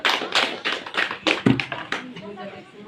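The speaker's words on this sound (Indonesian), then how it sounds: "Kita berikan tepuk tangan." An audience at an Indonesian gathering claps together in a fairly regular rhythm of close, sharp hand claps that loosen and die away, with voices underneath.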